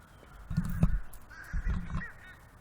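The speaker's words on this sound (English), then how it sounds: "Can you hear the crows?" Two bursts of crow cawing, each a short cluster of harsh calls, heard from moderate distance over quiet outdoor ambience.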